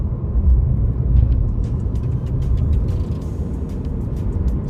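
A new Ford Maverick Hybrid taking a corner at 40 mph, heard from inside as a steady low road rumble and drivetrain hum with faint ticking above it, loud and continuous with no talking.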